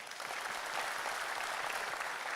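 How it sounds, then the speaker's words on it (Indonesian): Steady applause from an audience welcoming honoured guests at a formal Indonesian business gathering, a moderate wash of clapping that fills the whole moment without a break. "kita berikan aplaus"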